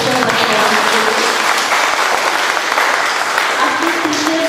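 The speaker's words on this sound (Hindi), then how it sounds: "एक बार ज़ोरदार तालियां" Loud applause rolls through a crowd at an Independence Day school celebration, dense continuous clapping close by with some faint tonal sounds and voices mixed underneath.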